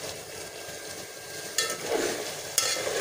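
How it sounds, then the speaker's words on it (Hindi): Ginger-garlic paste and green chilli paste sizzle as they fry in a pan, a steady close hiss broken by a couple of sharp utensil scrapes and clinks while being stirred. "अदरक लहसुन का पेस्ट डाल दिया है और हरी मिर्च का पेस्ट भी डाल दिया है। और इसको मैं भून रही हूँ"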